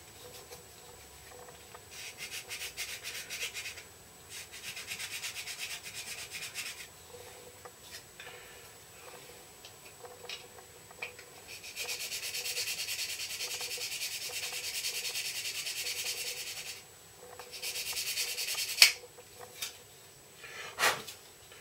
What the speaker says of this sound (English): making sure I choose the side of the file that hasn't got the teeth on it, so I'm not biting into anything sideways into the stinger while I'm filing that away.